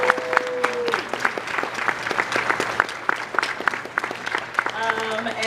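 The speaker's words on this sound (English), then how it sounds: "So I would like to give a big round of applause to him." Convention crowd at a furry convention closing ceremony applauds, giving loud, uneven clapping with sharp individual claps standing out, while whistles, cheers and voices rise over the noise throughout.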